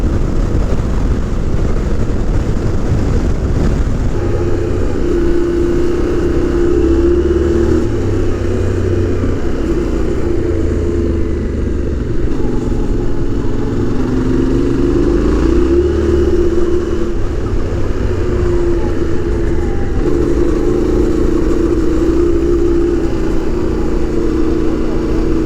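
Yamaha Ténéré 700 adventure motorcycles running fast, around 60 mph, on a dirt road in a national park, with a steady, loud roar of engine and wind that lasts the whole stretch without a break.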